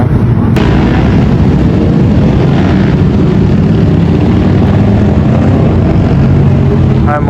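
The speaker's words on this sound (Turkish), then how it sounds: "Motorcu çetesi geçti" A loud, continuous engine roar from a group of motorcycles passing close by on a London street fills the whole stretch, dense and steady without letup.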